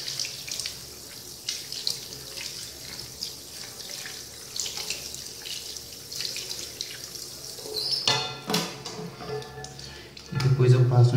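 Tap water runs steadily over a doll's hair as shampoo is rinsed out in a sink, a continuous close splashing stream that grows louder and heavier near the end.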